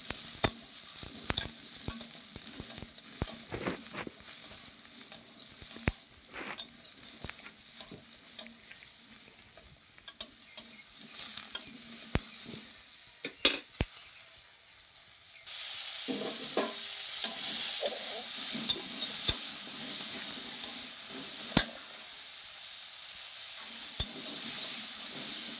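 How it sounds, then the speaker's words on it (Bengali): Cauliflower florets frying in hot oil with turmeric, a steady close sizzle broken by scrapes and knocks of stirring, growing louder and denser partway through. "তো দেখুন ফুলকপিগুলো আমার ভাজা হয়ে গেছে।"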